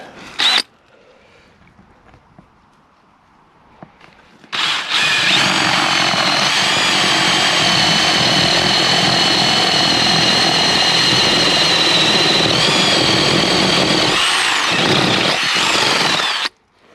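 A power drill with a 3/4 inch bit bores steadily through a house wall, a loud continuous whine and grind lasting about twelve seconds after a brief start, with no talking over it.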